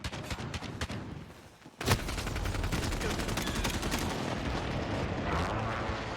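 Rapid gunfire in a Valorant or Call of Duty match, dense close bursts of shots after a brief quieter stretch, then a sustained loud barrage of overlapping reports.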